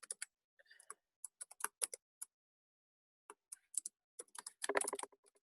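Typing on a computer keyboard, heard close and quiet as scattered clicks and short bursts of keystrokes with pauses between, ending in a quick, denser flurry of taps and no voices.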